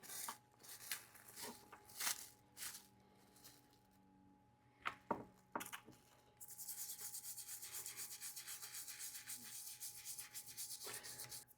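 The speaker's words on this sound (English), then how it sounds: "Time is up, so let's scrub it down." A Savinelli Linea 76 Artisan tobacco pipe being scrubbed: scattered knocks and handling sounds first, then about five seconds of steady, rhythmic rubbing strokes, close and fairly quiet.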